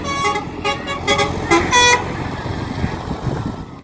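A bus telolet horn near Aljabar blares a series of bright, musical toots, several quick blasts in a row, loud and close over rumbling traffic, then fading to engine noise.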